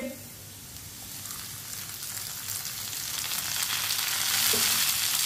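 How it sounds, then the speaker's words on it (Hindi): Finely chopped tomatoes sizzle in hot oil for aloo karela, a steady frying crackle that grows slightly louder and busier over several seconds, with faint stirring. "टमाटर को भी 1 मिनट के लिए पका लेंगे"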